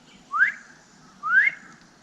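A person whistles twice, two short rising whistles spaced about a second apart, clear and close, imitating a call toward an animal seen at night outdoors.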